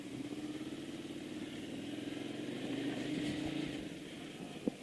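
A motorcycle engine runs on a road, with a steady mid-pitched hum that swells slightly midway and then eases, faint and continuous, with a small knock at the very end.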